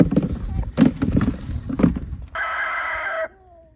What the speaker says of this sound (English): It's a madhouse of chickens.